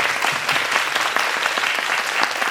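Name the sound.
audience applause at a book talk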